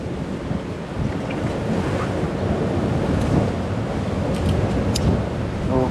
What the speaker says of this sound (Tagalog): yang malakas yung alon ilang araw na